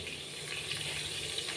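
Basmati rice rinsed in water before soaking for an instant veg biryani: a steady sloshing, trickling wash of water at close range, continuous and fairly even, with no voices.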